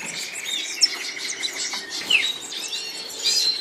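Several small red siskins chirp and twitter in bright, rapid bursts, fairly close, with a faint steady hum in the background.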